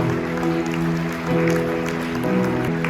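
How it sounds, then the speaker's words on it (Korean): Wedding guests applaud in a hotel banquet hall during the ceremony. Steady clapping sits beneath sustained music throughout. "여러분 박수로 함께 해주시죠"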